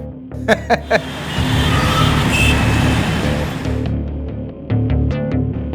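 Heavy road traffic stuck in a jam near metro construction work, a dense, steady roar of idling and creeping engines close by, with sharp horn-like blasts near the start and again toward the end.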